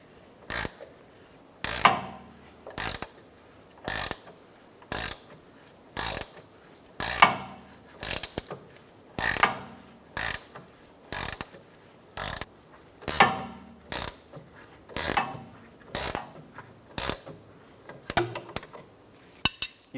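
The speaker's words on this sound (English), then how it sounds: "using an 18mm wrench, I'm going to loosen the nut" 18mm wrenches working the nut on a rear camber bolt of a 2007-2012 Nissan Altima, a close series of sharp ratcheting metal clicks in regular bursts, each followed by a brief pause, with no talking.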